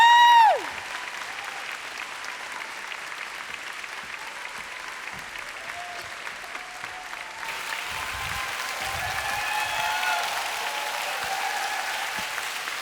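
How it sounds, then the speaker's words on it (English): Conference audience applause at LOGIN 2019 for Ingrida Šimonytė: after a brief tone at the start, steady clapping from a large hall runs throughout and swells louder in the second half. "please give an incredible, warm round of applause for Ingrida"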